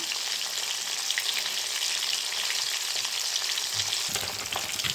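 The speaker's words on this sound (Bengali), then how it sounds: "মাছটা আমি উল্টে নিলাম।" Fish fries in oil in a pan after being turned over for a tel koi dish, a steady close crackling sizzle with faint scraping and no voices.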